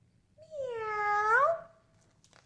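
A single drawn-out meow from a human voice imitating a cat, rising then falling over about a second, with a faint low hum beneath.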